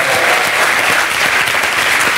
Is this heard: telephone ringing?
no